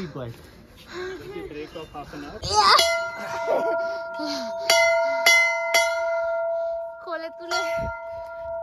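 Several clanging strikes of a metal bell at a Hindu temple in Srinagar ring out one after another, each leaving a bright sustained hum, with people talking before and between the strikes.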